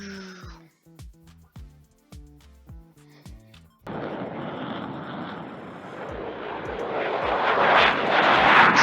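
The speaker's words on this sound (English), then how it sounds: "It's one of the Thunderbirds." A US Air Force Thunderbirds jet roars in abruptly after a few seconds of rhythmic background sound, its loud, broadband engine rush swelling steadily as the aircraft draws nearer.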